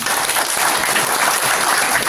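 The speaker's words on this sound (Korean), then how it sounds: "박수 한번 보내주시기 바랍니다." A crowd applauds steadily and loudly for a couple of seconds, a dense wash of clapping with no pauses.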